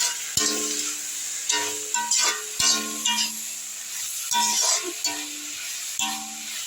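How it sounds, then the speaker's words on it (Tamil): Vegetables being stirred in a pan with lemon and pepper powder for egg fried rice, with repeated loud spatula knocks and scrapes over a steady sizzle. "அடுத்து லெமனு பெப்பர் பவுட்ரு எல்லாத்தையும் நல்லா கிண்டிக்கலாம்"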